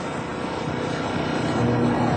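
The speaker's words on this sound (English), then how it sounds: "this Red Bull helicopter is the only one in this country to do all this stuff like this" A Red Bull aerobatic helicopter flies overhead, its rotor and engine producing a steady, moderately distant drone that swells slightly toward the end, with no talking.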